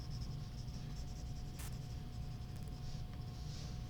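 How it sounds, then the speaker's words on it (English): A pencil shades a two-point perspective drawing of a hallway with doors, giving a faint, steady scratch over a low background hum. "I'm going to take my time here and kind of shade this in with better craftsmanship"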